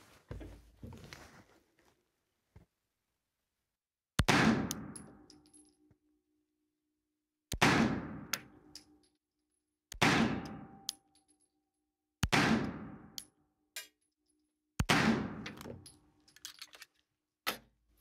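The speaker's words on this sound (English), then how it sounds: "Put a couple rounds down range and let's see where we're landing on target." Girsan Regard 9mm pistol fired down range, five sharp loud shots spaced roughly two to three seconds apart, each ringing out and decaying, with faint clinks of casings before and between them.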